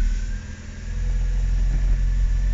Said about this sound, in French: Nous retentons un démarrage au starter maintenant qu'il n'y a plus de fuite au niveau du carburateur.